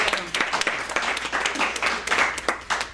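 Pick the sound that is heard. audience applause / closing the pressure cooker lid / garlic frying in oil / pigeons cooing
audience applause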